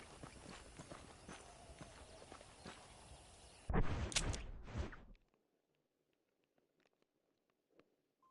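Horse hooves clip-clop in the Western game Red Dead Redemption, a steady walking rhythm that swells into a louder burst and then stops, leaving near silence.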